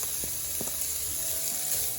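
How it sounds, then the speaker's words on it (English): Bitter melon and cashews stir frying in a pan over a medium flame, a faint steady sizzle with a few soft clicks and taps. "Once you hear the sizzling sound, go ahead and add your grated coconut."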